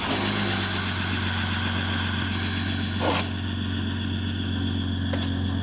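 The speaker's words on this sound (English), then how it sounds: "Oh man, the engine actually sounds a lot quieter." A Jeep Gladiator engine idles steadily at close range, giving a continuous low rumble with an even hum and no talk over it.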